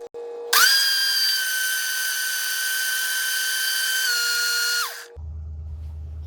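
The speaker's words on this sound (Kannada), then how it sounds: "ಲಿಡ್ ಕ್ಲೋಸ್ ಮಾಡಿ ರುಬ್ಬಿ." A mixer grinder whirs loudly as it grinds idli-dosa chutney made with tamarind and salt, the lid closed; it is a steady high motor whine for about four and a half seconds, then winds down and stops, leaving a low hum.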